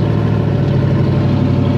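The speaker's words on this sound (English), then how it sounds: "She's idling stupid high and wants to stall." Hot rod drag car engine at a drag racing event, idling high and rough as if about to stall; a loud, close, continuous low rumble with no voices.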